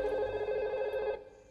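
A telephone rings in a house in a Hindi comedy, giving one steady tonal ring that holds for about a second, then cuts off abruptly as the line goes quiet.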